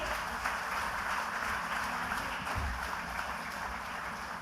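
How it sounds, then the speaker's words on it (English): Applause from the audience at a corporate quiz national final, a steady wash of clapping heard at moderate distance and fairly faint, continuing evenly without voices. "Can we have a round of applause for all of them?"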